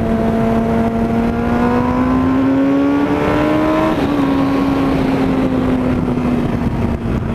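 A Suzuki GSX-R K4 600 motorcycle engine runs loudly and steadily close by, a continuous buzzing drone whose pitch climbs gently and then dips slightly as it holds on.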